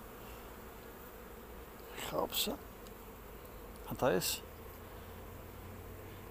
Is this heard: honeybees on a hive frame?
yes